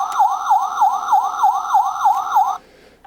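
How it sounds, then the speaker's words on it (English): A looping wail from the sound chip of a Transformers Universe Onslaught toy, modded to repeat, rises and falls about nine times in quick steady cycles, loud and close, then cuts off abruptly. "and then here's the siren"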